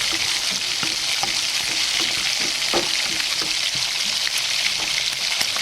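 Chopped onion and tomato sauté in a hot pan, giving a continuous dense sizzle with faint scraping taps from stirring, close and steady from start to finish with no talk.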